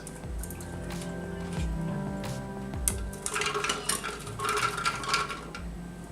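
Wet squishing and splashing of water running over soaked nuts in a bowl as they are rinsed, with a few light clinks, close by and continuous.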